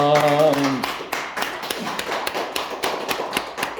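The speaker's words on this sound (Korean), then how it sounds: "오늘도 우리 찬양 받으신 하나님께 박수로 영광 올리겠습니다" Congregation at a Korean Sunday worship service in Gimpo clapping in praise, scattered sharp hand claps and taps building after a brief sung or spoken note at the start, irregular and fairly close.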